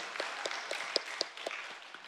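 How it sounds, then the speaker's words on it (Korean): A church congregation claps in praise during a worship service, a short, moderately faint burst of rhythmic, fairly even claps, with no talk over it. "우리에게 그 복음의 길을 향하게 하신 주님께 영광의 박수 드리겠습니다."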